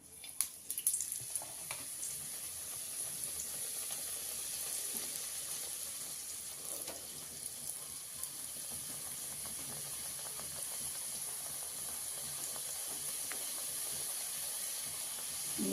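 Karanji dumplings frying in hot oil in a kadhai, a low steady sizzle and hiss with faint bubbling, quiet and continuous, no talk.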